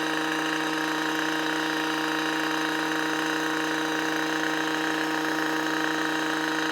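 A Stihl MM55 small roto tiller with a bolo tines cultivator attachment runs at a steady, even engine drone, close and continuous throughout, with no voices.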